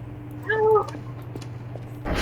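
Cat-like crying creature in the video game Voices of the Void gives one short, drawn-out meow-like wail, moderately loud over a low steady hum, followed by a brief bump of noise.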